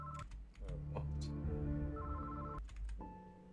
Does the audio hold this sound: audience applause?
no